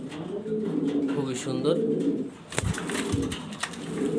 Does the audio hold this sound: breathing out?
no